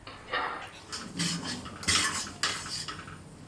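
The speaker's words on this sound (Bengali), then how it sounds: "আবারও খুন্তির সাহায্যে সুন্দর করে কষিয়ে নিচ্ছি" A metal spatula scrapes and clinks against a pan while cabbage is stirred and cooked down, in several short bursts of scraping with brief pauses between.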